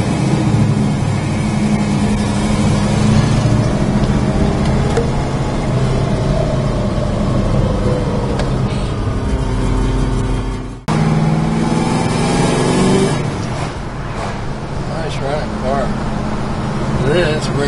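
Interior drive in a 1969 Plymouth GTX, with steady engine and road rumble throughout and a brief dropout partway, while people talk over it.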